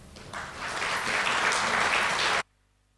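Audience applause at an inaugural professorial lecture swells up, holds as a dense, steady patter, then cuts off abruptly near the end.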